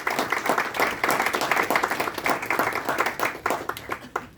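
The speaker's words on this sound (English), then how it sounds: "Please welcome him with applause." An audience at a book launch for a Goa nature book bursts into dense, continuous clapping, close and lively, holding steady across the whole stretch with no voices on top.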